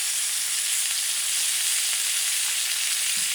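Unsalted butter sizzling in a hot pan alongside a steak, a steady, dense crackling hiss that holds evenly throughout with no talking.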